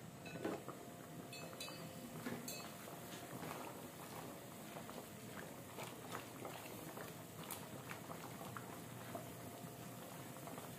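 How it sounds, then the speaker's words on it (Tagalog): Covered pot of soup at a steady boil in cold weather, continuous bubbling and gurgling with faint lid rattles and clinks throughout, close and moderately loud. "Takpan natin. Ayan, kumulo na."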